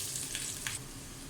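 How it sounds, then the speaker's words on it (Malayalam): Ginger garlic paste, about a tablespoon, sizzles in hot sunflower oil, a steady bright crackling frying hiss with two brief louder bursts, close and continuous throughout. "ഇനി ഓയിലൊന്ന് ചൂടാവുന്ന സമയത്ത് 1 ടേബിൾ സ്പൂണോളം ഇഞ്ചി വെളുത്തുള്ളി പേസ്റ്റ് നമുക്കിതിലോട്ട് ഇട്ട് കൊടുക്കാം"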